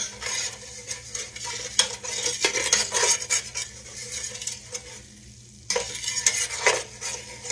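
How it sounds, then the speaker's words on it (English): A spoon stirs and scrapes a self-rising flour roux in a skillet, giving close, uneven scraping strokes over a light sizzle, with one brief pause near the end. "I'm just going to mix that around in there like that."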